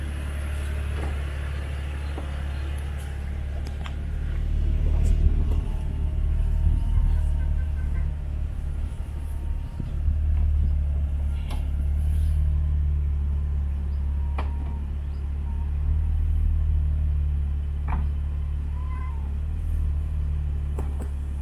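A BMW Z4 drives with a steady low engine rumble and road noise from inside the car, swelling and easing gently over about twenty seconds, with a few faint clicks and no clear talk.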